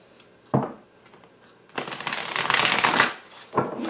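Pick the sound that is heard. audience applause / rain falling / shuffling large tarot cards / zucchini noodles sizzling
shuffling large tarot cards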